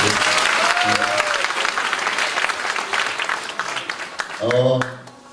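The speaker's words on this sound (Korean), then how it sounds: "박수로 한번 축복해 주십시오" Church congregation applauding during a family worship service, a dense steady patter of many hands filling the room, then a voice speaking briefly over the fading claps near the end.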